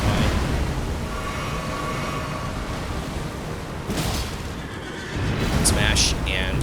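A horse in Elden Ring: Shadow of the Erdtree neighs amid a loud, dense battle din, with heavy booms and impacts that drop away briefly before crashing back in.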